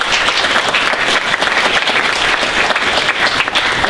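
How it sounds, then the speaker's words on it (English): Loud, close applause from an audience welcoming a union president to speak at a political public event, a thick continuous burst of clapping with no break. "Please give a round of applause."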